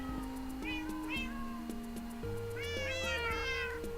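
Several Minecraft cats meowing over background music, a few short mews early, then a cluster of overlapping meows later, moderately close.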